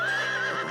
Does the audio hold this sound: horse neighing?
yes